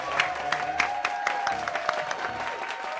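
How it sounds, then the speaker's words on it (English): A crowd of guests at a podcast taping on martial arts claps and cheers for an arriving guest, a dense, steady patter of many hands heard up close with no speech over it. "give him a real big clap and a lot of noise over here, guys"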